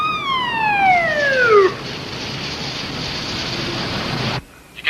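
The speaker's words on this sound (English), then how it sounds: "Bravo 101, sound your siren." A loud police car siren wails with a falling pitch sweep, then a harsh steady tone blares for a few seconds before cutting off abruptly.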